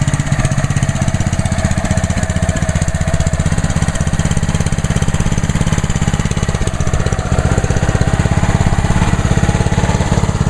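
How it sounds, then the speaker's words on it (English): A Ryobi 3100 PSI pressure washer's gas engine idles close by, a loud, steady, rapid chugging pulse that holds even throughout with no talk. "the engine's running at idle."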